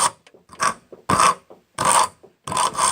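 A wood rasp files a wooden knife blank clamped in a vise, shaping it down in repeated rough strokes: five loud rasping bursts, close and rhythmic, separated by short pauses and lighter scrapes.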